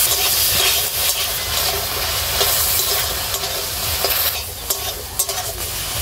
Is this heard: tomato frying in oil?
yes